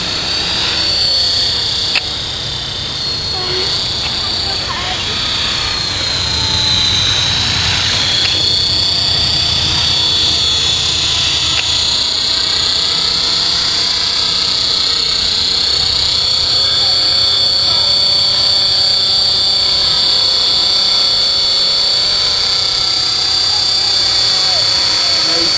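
A helicopter engine hovers with a loud, sustained turbine whine and a deep, rumbling rotor wash that stays close and steady, its pitch shifting slightly over the long stretch, while a voice talks over it.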